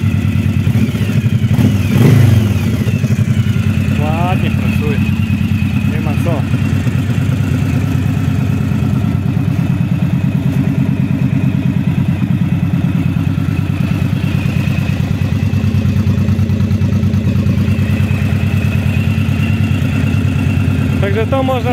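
A Yamaha DragStar XVS 1100 motorcycle with a faulty starter clutch runs steadily at a loud, close, throbbing idle with a brief rev near the start, and a voice speaks over the engine.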